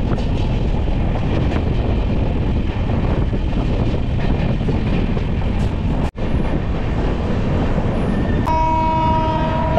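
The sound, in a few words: Sairang Express train entering Krishnanagar station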